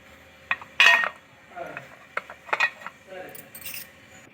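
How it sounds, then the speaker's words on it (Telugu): Metal idli stand plates being greased with ghee or oil, giving scattered light clinks and scrapes of thin metal up close, in short irregular bursts with soft rubbing between. "ఇడ్లీ స్టాండ్లో కొంచెం నెయ్యి కానీ నూనె కానీ అప్లై చేసుకొని ఇలా మొత్తం"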